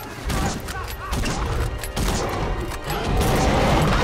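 Rapid bursts of gunfire in a Jurassic World movie scene aimed at the Indominus creature, loud and dense, mixed with crashing mechanical noise and a continuous cinematic roar across the whole moment.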